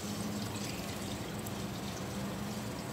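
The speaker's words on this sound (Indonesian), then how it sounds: "Kita masukkan air." Water pours into a bowl of sugar mixture for zebra pudding, a faint, steady, continuous trickle with no talking.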